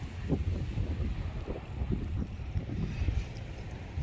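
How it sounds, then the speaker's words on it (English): Strong wind in Ireland near a waterfall buffets the microphone in low, rumbling gusts, roaring continuously with irregular thumps. "It's so windy that it's throwing that waterfall back up into the sky"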